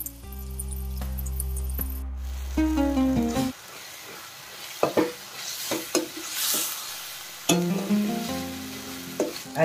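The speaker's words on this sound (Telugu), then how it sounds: "ఇలా 10 నిమిషాల పాటు ఇలా ఫ్రై చేసుకుంటూ ఉండాలి." Prawns fry in masala in a pan, a soft sizzle running under intermittent scraping stirs, with a louder musical jingle playing over the first few seconds.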